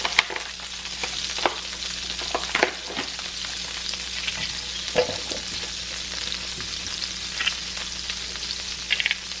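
Vegan butter sizzles in a hot pan with a steady close crackle, broken by occasional sharper pops and the scrape of stirring, with no voices present.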